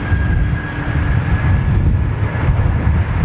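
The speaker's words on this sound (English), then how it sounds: "That 747's fired up." Boeing 747 jet engines running at idle before taxiing, a loud steady broadband roar with a faint high whine held throughout, no voices.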